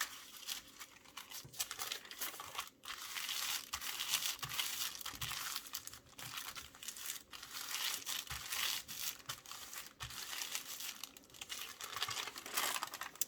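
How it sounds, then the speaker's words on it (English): Baking paper pressed and rubbed down onto a handmade soft-cover junk journal with lace at the spine, a continuous close crinkling and crunching rustle with small irregular crackles, quiet and without voices. "I will use baking paper to press down better."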